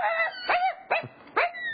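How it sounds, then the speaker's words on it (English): A dog lets out three or four sharp, close barks in quick succession, loud and clear with no other sounds. "The dog's going to bark."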